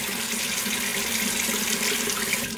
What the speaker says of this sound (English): I'm just gonna put a little bit of water right on my face.